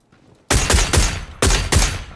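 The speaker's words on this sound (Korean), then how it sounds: "총소리가 오 AK 연사 쏠만한데 이제" Two bursts of rapid automatic AK rifle fire in the video game PUBG (Battlegrounds), loud and close, each a quick run of sharp cracking shots separated by a brief pause.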